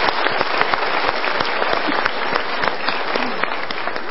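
Sustained audience applause in a seminar hall, dense and steady with scattered sharper claps, filling the whole stretch at even loudness with no talking over it.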